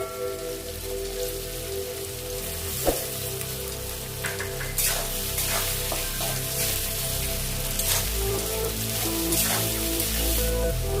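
Chopped tomatoes frying in hot oil for katla fish kalia, a steady crackling sizzle with small popping bursts that runs close and continuous throughout, no voices.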